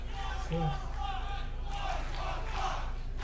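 A wrestling crowd at a tournament match, chanting and shouting together in a busy, rhythmic roar that swells and falls over a few seconds, with voices blending into the noise.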